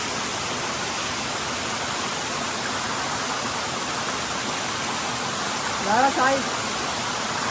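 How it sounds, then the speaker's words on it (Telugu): Katiki waterfall in Araku roars close by as a dense, steady rush of water that fills the whole clip, with someone briefly speaking near the end. "చాలా క్లోజ్ ఉంది వాటర్ ఫాల్, చాలా క్లోజ్."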